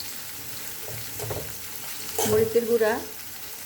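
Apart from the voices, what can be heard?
spices sautéing in oil for shing fish curry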